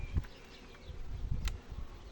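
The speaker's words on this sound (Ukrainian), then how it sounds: "Да, бджолини дуже багато" Honey bees buzz around an open beehive during honey harvesting, a soft, fairly quiet hum with a few louder close passes and faint clicks against low background noise, without speech.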